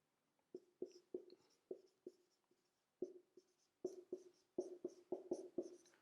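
Marker strokes on a board, short scratchy squeaks in uneven bursts: a few strokes, a pause, then a quicker cluster of writing, close and clear with no talking.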